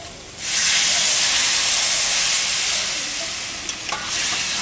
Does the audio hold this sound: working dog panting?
no